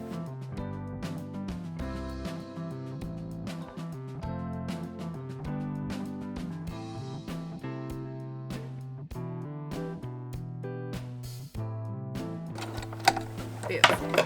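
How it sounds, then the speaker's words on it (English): A sewing machine running a zigzag stitch through fursuit leg padding, its whirring mechanism steady through the background, mixed with a busy musical bed and no clear speech on top. "Just going to carefully maneuver this onto the sewing machine."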